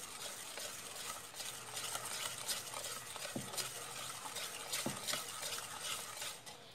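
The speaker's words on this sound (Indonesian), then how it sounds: "Kita aduk lagi." Banana fritter batter being stirred in a bowl, soft repeated scraping and sloshing with a few light clinks of a utensil against the bowl, quiet and close.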